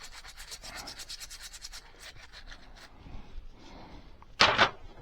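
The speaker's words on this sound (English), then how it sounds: "Had a good wipe with the cloth." A cloth wipes a Triumph Bonneville motorcycle chain in quick rhythmic rubbing strokes, close and soft, ending with a sharper scuff.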